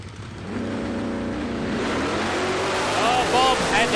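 Aeroflow Outlaw nitro funny cars at a drag strip build from a steady drone to a loud, rising engine roar, with a commentator talking throughout.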